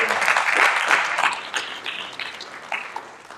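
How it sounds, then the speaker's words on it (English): Families at a high school senior awards ceremony applaud the parents, with steady dense clapping from a crowd that swells early and gradually thins toward the end. "kids, give your parents a round of applause for everything they've done for you"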